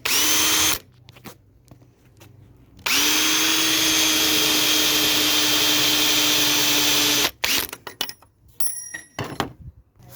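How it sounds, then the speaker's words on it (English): A power drill whirs loudly in two sustained bursts, drilling holes through the side of a boat wheel, a short one then a longer steady run, followed by scattered clicks and handling noises. "I need to drill holes through the side to make sure we're all in the same place."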